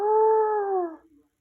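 A single drawn-out howl from a wild wolf rises slightly, holds a clear, tonal pitch, then bends downward and fades away after about a second, alone and fairly close.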